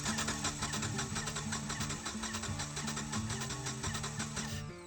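An engine cranks steadily during a compression test, the starter turning it over in a fast, even rhythmic chug that runs loud and close for nearly five seconds before stopping, with no one talking.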